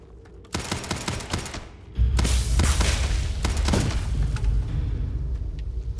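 Gunfire from a gun in the space game Starfield: a rapid cluster of sharp shots, a short lull, then a second heavier volley of close, punchy reports over a low rumble, with no talking.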